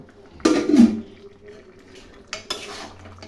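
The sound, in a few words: boiled mutton pieces added to pan of spice masala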